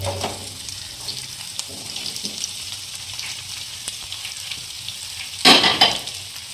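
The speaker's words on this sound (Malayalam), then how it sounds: "നമ്മൾ നേരത്തെ റെഡിയാക്കി വെച്ചേക്കുന്ന സവാള അതിലേക്ക് ഇട്ട് കൊടുക്കും" Sliced onions hit hot oil in a pan for Kerala-style masala dosa filling after ginger and green chillies have softened, giving a steady low sizzle and a sudden louder burst of frying near the end; no talking.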